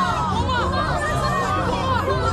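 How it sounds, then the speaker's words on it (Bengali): A crowd in uproar and commotion, a dense babble of many overlapping excited voices with no single speaker standing out, loud and continuous throughout. "তুমুল গোলমাল, হইচই,"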